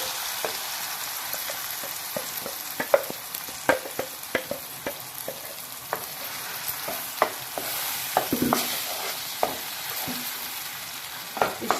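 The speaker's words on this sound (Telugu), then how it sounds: "అంతా మంచిగా ఆయిల్లో ఫ్రై అయిపోవాలండి" A masala mixture for dhaba-style egg curry sizzles steadily in hot oil in a pan, with scattered scraping knocks as a spoon stirs it; close and moderately quiet, no voices.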